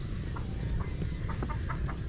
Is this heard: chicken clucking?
yes